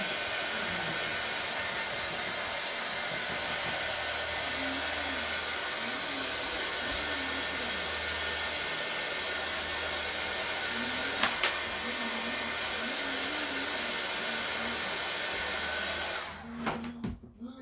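A hair dryer blows steadily on a small craft tag for fall pumpkin decor, giving a loud continuous whoosh that cuts off abruptly near the end.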